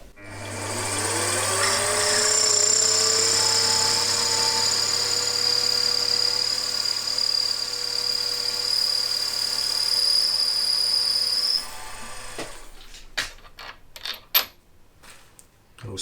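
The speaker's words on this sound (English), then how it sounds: "And now I'm countersinking. This is a 14mm drill bit, end mill" A lathe countersinks a workpiece with a 14 mm drill bit or end mill, giving a steady high-pitched machine whine with a low motor hum for about eleven seconds, then the motor spins down and a few clanks and knocks follow.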